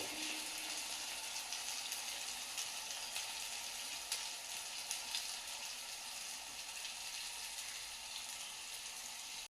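Ginger, garlic, onion and chili fry in a pan, giving a steady, dense sizzle that holds at an even level for about ten seconds, close by, with faint clicks over it and no voices.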